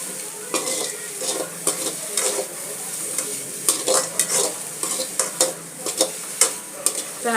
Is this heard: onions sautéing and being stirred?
yes